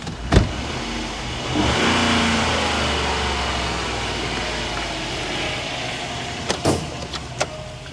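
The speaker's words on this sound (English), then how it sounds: "Let's rev it a little bit." A Range Rover engine idles steadily in a garage, briefly revving near the start, with a few sharp clicks and clunks toward the end; no talking.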